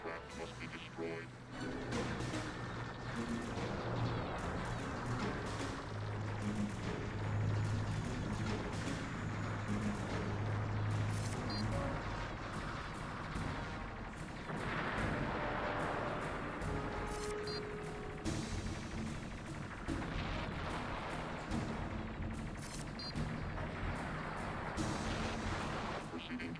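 Gunfire and blasts from an assault on a fuel base in a Battlestar Galactica space combat game, a dense and continuous barrage of shooting and explosions that fills the whole stretch, with someone talking over parts of it.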